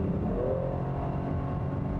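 A 2019 Buick Regal GS sport sedan's engine accelerating, giving a steady, close, continuous drone with a low rumble that holds level throughout and has no voices over it.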